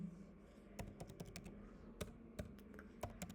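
Fingers type code on a computer keyboard in VS Code, a quiet run of irregular clicking keystrokes with occasional sharper taps, close and alone with no talk.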